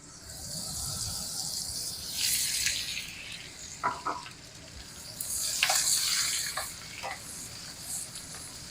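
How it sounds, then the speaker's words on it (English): A stick of butter and sliced onions sizzle in a hot pan, a steady close frying hiss with bursts of louder crackle and a few sharp spits, no talk. "on goes our stick of butter. And our onions."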